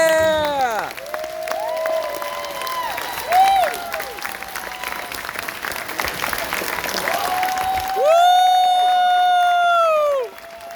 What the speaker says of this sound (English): can I get big round of applause?